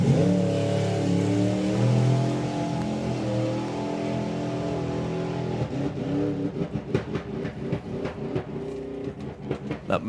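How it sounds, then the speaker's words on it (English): A drag racing car at the Dragstalgia 2024 drag strip event drones loud and steady at first, then breaks into choppy, stuttering bursts of rapid revving pulses, heard up close. "I've never heard an engine do a drum solo before."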